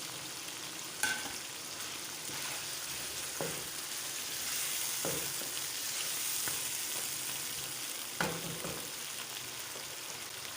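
Coriander and small green chilies sizzling in simmering mutton chop gravy, a steady soft frying hiss with a few sharp clinks of a spoon against the pot.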